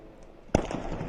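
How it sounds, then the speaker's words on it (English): A drone strikes an oil refinery: a single sharp distant boom lands suddenly after a low steady background rumble and leaves a rumbling tail. "there goes the drone. It impacted right on the refining capability of the actual plant itself"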